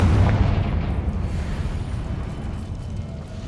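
A loud, booming explosion from a Confringo blasting spell in the Hogwarts Legacy video game, with a heavy low-end burst at the start that rumbles and slowly fades.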